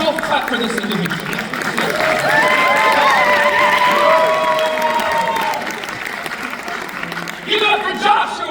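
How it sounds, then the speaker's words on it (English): Audience at a live tabletop roleplaying show bursts into loud applause and cheering, with whoops and shouts rising over sustained clapping that swells in the middle and then tapers off. "Let's both clap for this individual."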